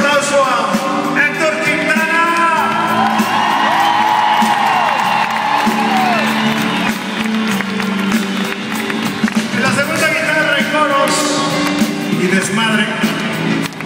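A concert crowd roars for a band member, with loud sustained applause, whoops, shouts and cheering filling the whole stretch, and voices and music tones rising through the din.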